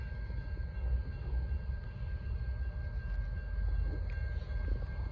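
A heavy Norfolk Southern northbound freight train rumbles past at a distance in Charlotte, North Carolina, a steady low roar with faint squeals and clanks over it, no voices.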